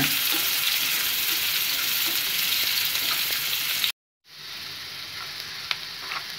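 Onions for rava kichadi sauté in a pan, giving a steady close sizzling hiss that drops out for a moment and then resumes, with no voices.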